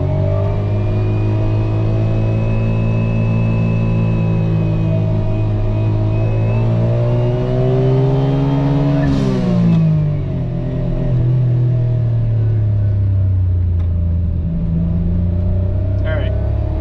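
A Suzuki Cara kei car fitted with a SuzukiSport/Mazdaspeed dual outlet exhaust idles and revs. The loud, close engine drone rises and falls in pitch, with a sharper blip near the middle before settling back.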